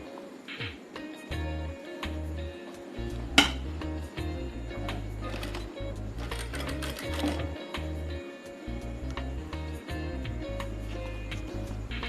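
Sewing machine stitching a sleeve onto a garment at the shoulder seam, running in repeated short rhythmic bursts of rapid mechanical chatter, close and fairly loud, with brief pauses and clicks between runs.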